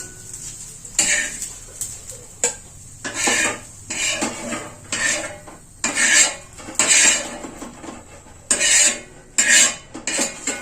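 Onions being stirred and fried in a metal pan until golden brown, a spoon scraping and clinking against the pan in irregular bursts with short pauses between strokes, close and clear.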